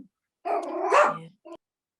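A puppy gives one sharp, close, high-pitched bark followed by a brief yip, with silence around them.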